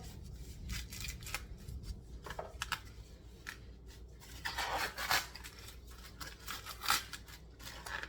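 Husks are pulled and torn off an ear of corn, producing a series of close, crisp rustling rips and crackles in irregular bursts, with louder tearing near the middle and end.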